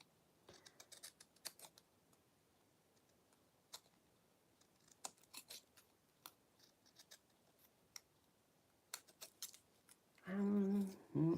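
Scissors trim a craft piece, giving a run of crisp, separate snips at an uneven pace, close and fairly quiet, followed by a louder rustle of handling at the end.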